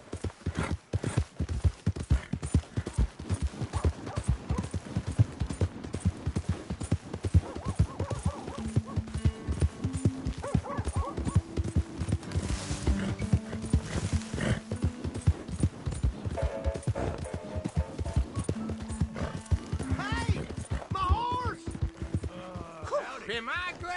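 Horse hooves clip-clop steadily in Red Dead Redemption 2, a continuous rapid rhythm of close, crisp hoofbeats, with a horse whinnying briefly and voices talking over the riding.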